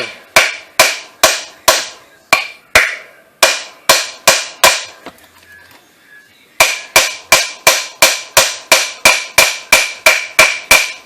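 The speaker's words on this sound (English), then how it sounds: "Hit it with a hammer." Steady, sharp hammer strikes in a fast regular rhythm, loud and close, working on a VDO blower motor for a 2001 Nissan Quest, with a brief pause in the middle before the pounding resumes.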